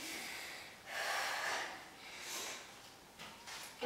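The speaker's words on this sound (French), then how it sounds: "Vous voyez, je suis bien essoufflée aussi." Heavy, out-of-breath breathing after an intense HIIT full-body workout, a few deep rushing inhales and exhales in slow succession, close and breathy with no talking.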